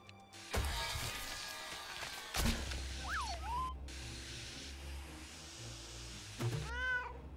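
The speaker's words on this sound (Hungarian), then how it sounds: "Kapd el a macskát!" A cat in a video game lets out two short, rising meows amid game sound effects and impacts, with a second meow near the end.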